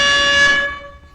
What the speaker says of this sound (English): I'll probably make mine air horn.